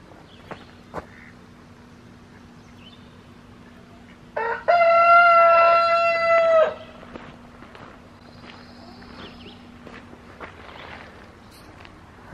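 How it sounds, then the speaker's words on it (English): A single loud rooster crow lasting about two seconds, close by, rising out of a quiet outdoor background with a few faint footsteps. "I apologize to my rooster. He's a little loud."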